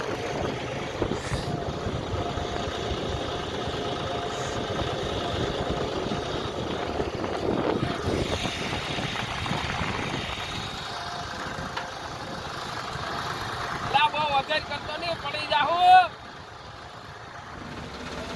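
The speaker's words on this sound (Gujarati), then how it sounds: "તો જો અનિલભાઈ અહીંયા ટ્રેક્ટર ફસાવી દીધું." A tractor engine runs steadily while the tractor sits stuck in black soil during loader work, a continuous mid-pitched drone with people talking over it and a brief louder burst near the end.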